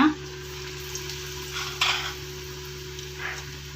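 Banana bajji frying in hot oil for tea-shop style snacks, a steady bubbling sizzle with a few soft stirring bumps, close and moderately loud with no talking.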